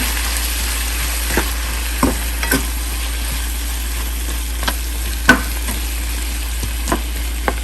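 Drumstick fry with turmeric being stirred in a pan, with a soft steady sizzle beneath a low hum and occasional sharp utensil clicks against the pan.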